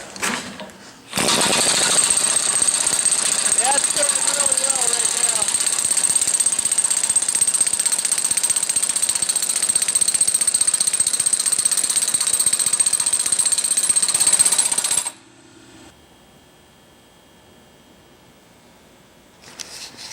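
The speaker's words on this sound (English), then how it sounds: "I got the impact set up, so I've just been running it back and forth here" An impact driver rattles loudly and continuously for about fourteen seconds, hammering as it runs along a greased threaded rod on a homemade bench vise, then stops abruptly, leaving quieter workshop noise.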